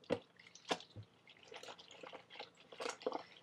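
A knitted wool swatch swished by hand through a basin of wool wash water, giving soft wet sloshes, drips and squishy splashes in uneven bursts, close and fairly quiet.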